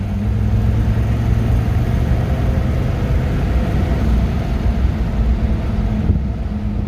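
A Mercedes-Benz W123 with the OM617 diesel, ALDA deleted, runs under throttle in a steady, loud low drone from inside the car, with a slight shift in tone near the end.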